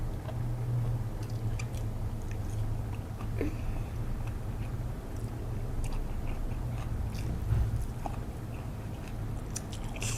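Someone eats a spicy mixed seafood salad with steamed shrimp, making close, continuous moist chewing and biting sounds with occasional small crunches and clicks throughout.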